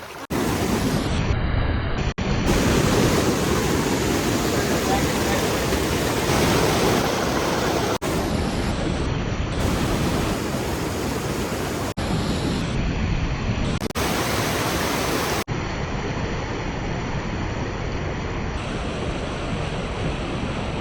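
Heavy rain pours in Valanchery while floodwater flows over the road, making a constant loud roaring wash. The sound is broken by several abrupt cuts but keeps the same dense, steady texture throughout.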